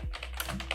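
Quick keystrokes tapped on a computer keyboard, several clicks spread evenly across a brief burst, close and clear with no talking.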